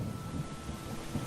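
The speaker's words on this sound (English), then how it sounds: "It's raining." Starbound game weather: steady rain hiss with low rumbling thunder underneath, soft and continuous over about a second, no voices.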